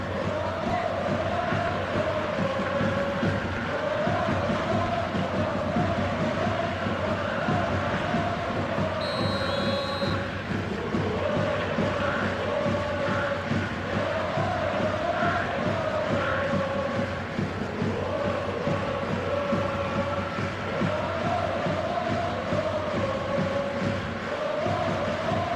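Stadium crowd in an eFootball match, a steady dense roar of chanting and cheering that holds at an even level throughout, with no clear individual voices.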